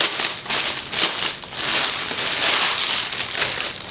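Plastic crinkles and rustles steadily as a cat-print makeup bag is pulled from its plastic wrapping, a dense crackling close by with no talking.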